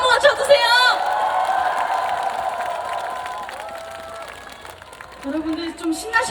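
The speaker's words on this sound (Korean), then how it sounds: "여러분 박수 한번 쳐주세요." Festival concert crowd claps and cheers for a singer on her birthday, a loud burst of applause with whoops in the first second that thins into scattered clapping and crowd murmur, with a singer's voice returning near the end.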